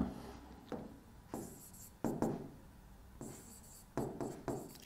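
Scratchy strokes of writing during a Class 12 chemistry lesson on p-block elements, arriving in short separate bursts with brief pauses between them, close and fairly quiet.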